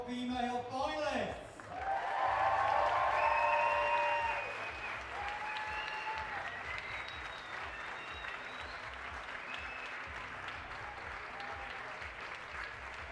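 Crowd at the grand final of a competition applauds the female finalists, clapping that swells after a voice, with cheers and whistles over it, then settles to a steadier patter.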